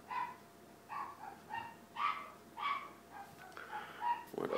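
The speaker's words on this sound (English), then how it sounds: "My dogs need to hush." Several dogs barking repeatedly indoors, a steady series of mid-pitched barks and yips roughly every half second, moderately loud and near, with no voices over them.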